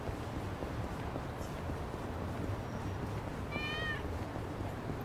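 A cat meows in Yakuza: Like a Dragon, a short wavering call rising over a busy game ambience of low rumble and clattering noise, fairly soft and heard once near the end.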